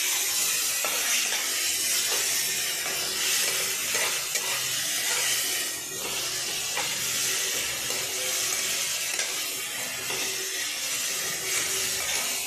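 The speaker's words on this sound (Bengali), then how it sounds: "এবার মশলাগুলো কষিয়ে নেব।" Ginger garlic paste, tomato and ground spices fry in a pan for a Bengali egg curry, sizzling steadily at moderate volume while a utensil stirs and scrapes at irregular intervals.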